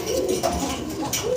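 Pigeons at a pigeon farm give soft, low rolling coos in quick succession, close by and clear over a faint background hum.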